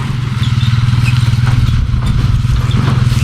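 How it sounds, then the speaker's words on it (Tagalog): A motorcycle engine runs close by with a steady, loud, throbbing idle that stays even throughout, with faint clatter on top and no talk. "Ano yun? Motor. Motor ba yan?"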